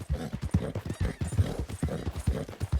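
A horse gallops under a rider in Red Dead Redemption II, its hooves beating a fast, regular clip-clop close by and fairly loud for the whole stretch.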